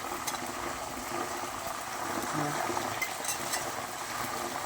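Hot oil hisses and bubbles in a pan of jackfruit chips after salt water is added, a steady, even sizzle that holds throughout at moderate loudness.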